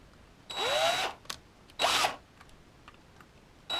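A power drill drives 4x20mm screws, with two close bursts of motor whine about a second each and a brief third start at the end, separated by quiet pauses.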